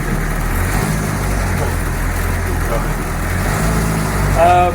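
A Land Rover Defender 90 with a naturally aspirated 2.5 non-turbo engine, uninspected and freshly clutch-bled, drives up a hill; its steady low engine drone holds throughout and swells slightly near the end.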